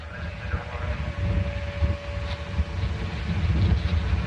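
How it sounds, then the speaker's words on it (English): Soyuz rocket second stage engines firing during a Progress cargo launch from Baikonur, a continuous low rumbling roar with rough, fluttering texture that swells slightly, distant and steady, no voices. "Second stage engines are up and running in good shape."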